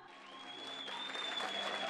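Children applauding a choir of mothers at a Disabled Day celebration at a special education centre in Manisa, a soft, steady patter of many hands that swells gradually, with a faint sustained singing tone lingering beneath.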